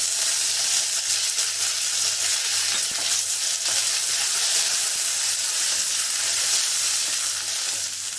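Mustard seeds spluttering and crackling in hot oil for a Kannada-style horse gram rasam tempering, a steady close sizzle with dense popping throughout and no voices.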